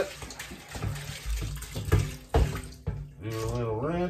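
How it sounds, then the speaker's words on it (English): Water splashing and sloshing as a plastic jug is rinsed out during homemade apple wine making, with gurgling pours and irregular splashes, then a steady running stream near the end. "So we'll take what's left in this other jug, plastic jug, do another quick rinse."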